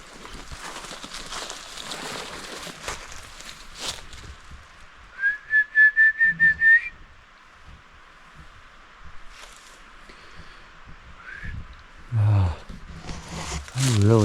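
A person attempts to whistle outdoors in a forest after dark, producing a short wavering whistle followed by a brief breathy try, with talking heard around the attempts.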